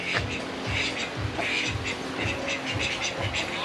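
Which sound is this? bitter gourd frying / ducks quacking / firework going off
ducks quacking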